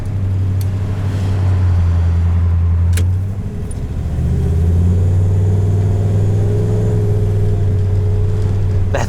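A 1947 Cadillac sedan with a 350 engine drives along with a loud, steady low engine drone. The engine note dips briefly and then builds again as it pulls, and no one speaks.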